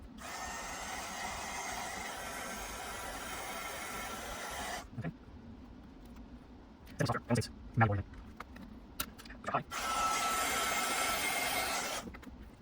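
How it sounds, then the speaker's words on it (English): A heat gun on its low setting blows a steady broadband whoosh at moderate level while warming the clear plastic shell of an original Game Boy, cutting out mid-clip for a few knocks and handling noises before roaring back. "So I'm going to put it on low setting and just heat up the plastic, see if I can bend this tab out of the way."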